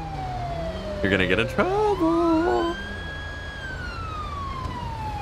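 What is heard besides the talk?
police car siren in a video game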